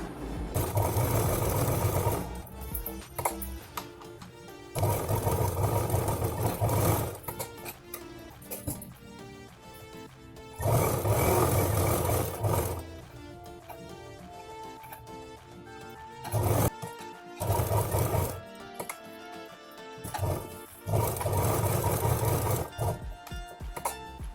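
A sewing machine stitches a purse made from blouse fabric, running in several loud steady bursts with short pauses between them and no talk.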